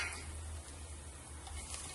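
Whole spices such as cinnamon, cloves, star anise and kasuri methi frying in hot oil for an egg biryani, a quiet steady sizzle with low pan rumble and occasional stirring.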